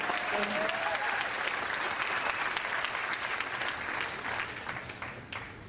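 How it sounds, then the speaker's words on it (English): Sustained, steady applause from a seminar audience fills the room, with a brief spoken thanks near the start. "let's give them a round of applause for helping out"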